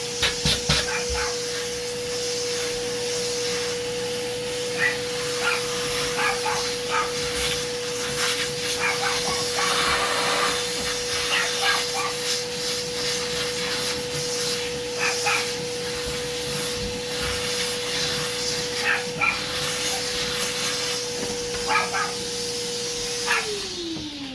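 A vacuum cleaner tidies up hair clippings after a short tapered haircut, with a steady close whine and hiss running throughout that winds down at the end. Faint scraping sounds come through, and a dog may bark in the background.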